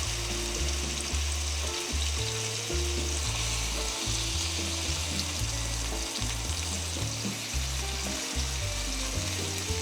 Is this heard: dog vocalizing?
no